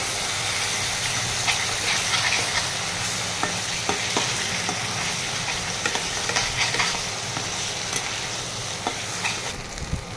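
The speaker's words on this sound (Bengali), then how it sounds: "সেই পেস্টটা এখানে দিয়ে দিচ্ছি। দিয়ে একটু কষিয়ে নেব মশলাটা" A paste of ginger, garlic, dried chili and cumin stir-fries in hot oil, giving a dense, steady hissing sizzle with intermittent scraping stirs, close and fairly loud.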